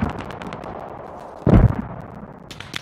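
Mortar and gunfire in the tactical shooter Squad: scattered sharp cracks, then one heavy booming impact near the middle, with a few more distant pops trailing after.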